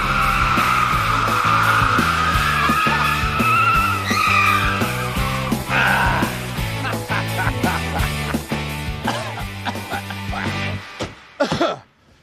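A dead old car, set aside for a crane drop test, drives with a loud engine hum and squealing, skidding tires. The noise rises and falls before cutting off abruptly at the end.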